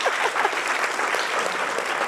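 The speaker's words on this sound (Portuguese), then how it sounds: "Uma salva de palmas para ele," Audience members at the O Poder da Colaboração talk event give a short, even round of applause, with dense clapping filling the whole moment.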